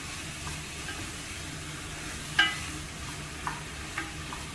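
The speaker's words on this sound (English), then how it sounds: "Now we're going to start stirring it as the meat starts to brown." Ground turkey browning in a Dutch oven while being stirred, a soft steady sizzle with a few light scraping knocks from the spoon, fairly quiet and without talk.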